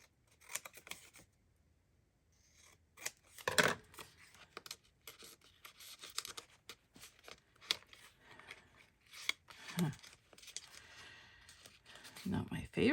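Scissors snip and trim paper while a craft journal is assembled, giving a few quiet, scattered cuts and rustles amid close-up handling noises, with a person speaking in between.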